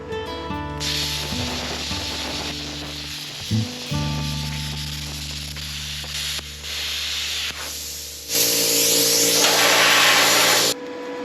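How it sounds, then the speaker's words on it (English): A Hynade plasma cutter slices an M shape out of quarter-inch steel plate, giving a steady loud hissing roar with tonal hum, brief interruptions near the middle, and a harsher, brighter burst toward the end. "that's cutting an M out of a piece of quarter-inch plate"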